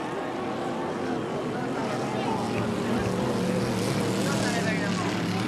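5-litre racing boats roar past at the 1994 Valleyfield regatta, a loud, continuous engine drone with rising and shifting pitch over wash and crowd noise, with a commentator's voice talking over it.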